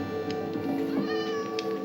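A cat meows in a video game, a short, moderately loud cry heard over a steady game soundscape with a faint chime near the end.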